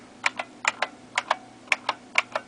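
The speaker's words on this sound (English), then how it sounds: "I bought a new 1980s keyboard because of the clicky noise" Typing on a clicky 1980s computer keyboard, a run of sharp, close mechanical key clicks in an uneven rhythm, each keystroke distinct against a quiet background with no voices.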